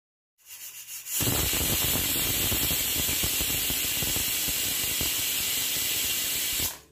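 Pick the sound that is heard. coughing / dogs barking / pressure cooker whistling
pressure cooker whistling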